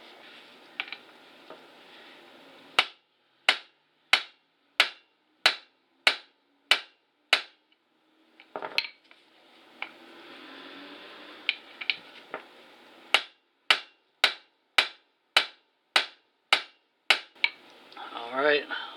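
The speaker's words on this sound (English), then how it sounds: "so we're going to use the hammer method." Sharp metallic hammer strikes ring out while hammering out a two-piece Chevrolet C10 driveshaft bearing, in two steady series of about eight blows each, separated by a pause with faint background noise.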